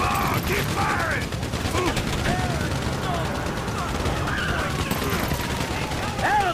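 Continuous gunfire from a GTA 5 bank robbery shootout, dense bursts and automatic fire overlapping throughout with no breaks, loud and busy, with game voices mixed in.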